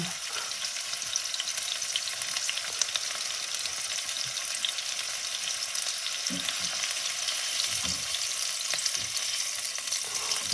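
Steak frying in a pan, a steady bright sizzle with crackling spatter held throughout, close and even with no talking.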